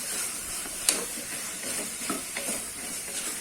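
Yellow pumpkin pieces sautéing in a pan for sambar, a steady soft sizzle with gentle stirring scrapes and a sharp clink near the start, close and moderately quiet, with no voices.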